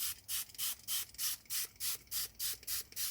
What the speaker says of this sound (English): Let's activate them to begin with, and we'll spray.